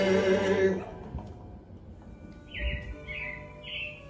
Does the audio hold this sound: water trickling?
no